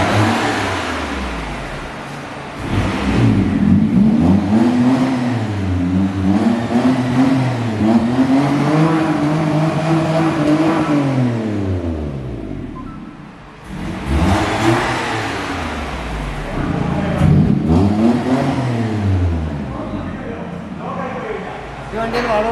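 A modified Maruti 800 engine with a valvetronic exhaust set to normal mode revs up and down in repeated rising and falling sweeps, loud and close, with a brief dip midway.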